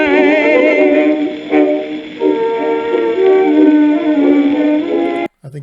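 A dog howls loudly and close, one long sustained wavering howl that shifts pitch over several seconds before cutting off abruptly, with no talking.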